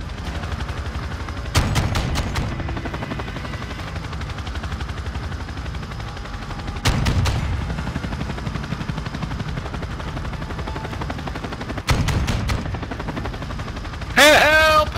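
Bursts of automatic gunfire ring out in Call of Duty: Modern Warfare II in three short volleys spread across the span. Each volley is loud and crackling and is followed by a rumbling tail, with faint background battle noise in between.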